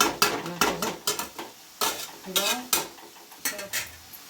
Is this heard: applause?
no